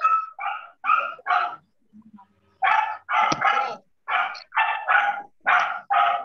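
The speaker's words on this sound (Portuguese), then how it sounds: "acho que o cachorro tá latindo aí" A dog barks in quick bursts, two runs of sharp barks separated by a brief pause with a faint whimper, fairly close and clear, with no one talking.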